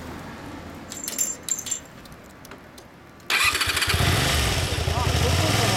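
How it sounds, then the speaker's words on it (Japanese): Keys jangle briefly, then the stock engine of a 1988 Honda VT250 Spada (MC20) motorcycle cranks and catches, settling into a steady, loud idle close by with faint voices. "エンジン音聞かせてもらえるかな"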